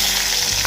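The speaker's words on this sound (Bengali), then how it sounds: "এবার কড়াতে যে তেল আছে ওই তেলে আলুগুলো ভেজে নেব।" Potatoes fry in hot oil in a kadai, giving a brief, steady, close sizzle with no speech.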